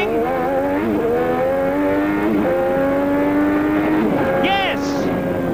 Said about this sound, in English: You have ridden with Saturo Nakajima on his fastest lap so far here at Adelaide.